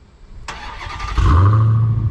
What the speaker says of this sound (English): I want to hear the exhaust.